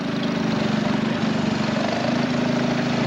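A Gibson Super D tractor engine runs at a 1996 Gibson tractor show, a loud, steady, close-up chugging drone with an even firing rhythm and no voices.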